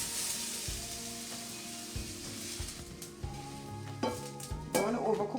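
Red onion and vegetables stir-frying in a wok for a chicken stir fry, with a constant sizzle under repeated scraping and clinking of the utensil against the pan, growing busier near the end.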